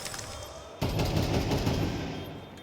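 Rapid automatic gunfire in a Counter-Strike match at a professional esports tournament, a loud sustained burst of shots that starts abruptly after a quieter lead-in and rattles on steadily before cutting off, with no voices over it.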